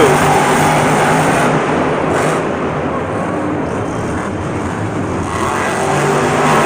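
Monster trucks Monster Energy and Mohawk Warrior race in an arena at Monster Jam Houston 2018, a loud, dense engine roar with a broad crowd-filled wash, steady throughout with slight surges.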